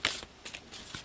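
Cards from the Undaunted 2200: Callisto board game are shuffled in a few quick riffling bursts, soft and close, with no talk.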